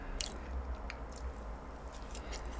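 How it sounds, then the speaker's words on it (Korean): Close, soft crunching and squishy chewing of a Knotted cream doughnut containing small seeds that crackle between the teeth like fig seeds, in a steady rhythm with no talking. "그리고 씹히는 거 씨가 씹히는데요?"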